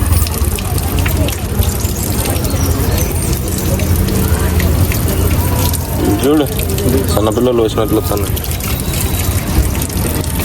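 Water gushes and splashes for foot washing at the Peddamma Thalli temple in Jubilee Hills, Hyderabad, loud and continuous under people talking nearby.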